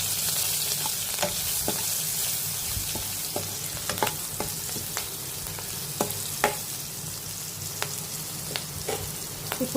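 Green chillies frying in hot oil in a pan with salt and turmeric, a steady dense sizzle throughout with scattered sharp pops and crackles, close and fairly loud.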